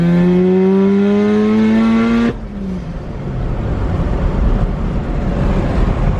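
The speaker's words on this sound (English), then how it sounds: "So that was a third gear pull." A Supra/RX7-type street car makes a full-boost third gear pull, engine pitch climbing loud and close for about two seconds before cutting off abruptly into a lower, rumbling coast.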